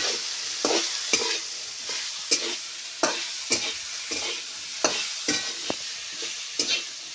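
Okra (bhindi) stir-fries in a pan, steady sizzling punctuated by regular spatula scrapes and knocks roughly every half second, close and clear.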